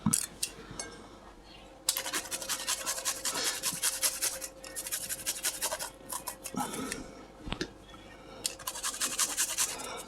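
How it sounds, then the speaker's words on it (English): Garlic rasps against a grater in a home kitchen while curry goat is prepared, with repeated quick scraping strokes in bursts, close and moderately loud, and brief pauses between passes. "Now after you done grate the garlic"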